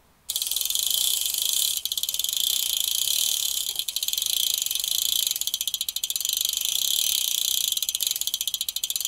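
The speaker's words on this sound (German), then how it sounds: "Und jetzt wird gebürstet." Stiff bristles scrub a bicycle chainring and cassette during a hoseless bike wash, a loud, steady rasping hiss with brief pauses between strokes, close up and with no talk.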